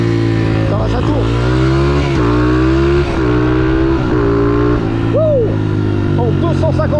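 A 250 CR motorcycle engine revs hard on the road, rising and falling in repeated surges and gear changes, loud and close, with someone talking over it.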